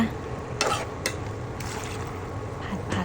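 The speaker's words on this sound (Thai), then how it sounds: "เรามาผัดผัดนะคะ ให้น้ำซอสมันซึมเข้าไปในเนื้อหมูกับเนื้อผักสักหน่อยค่ะ" Pork and vegetables stir-fried in sauce in a pan, with steady scraping and stirring strokes over a soft background sizzle, close and moderately loud, no voices.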